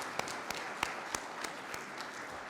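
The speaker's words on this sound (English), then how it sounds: "Would you please give them a round of applause?" Applause from the audience at a probation corrections officer academy graduation ceremony, a steady wash of clapping with a few sharper individual claps standing out, moderately distant and even in level.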